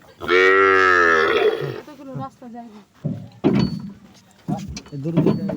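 A cow lets out a long, loud, close moo at a cattle farm in Mirpur, Dhaka, followed by people talking.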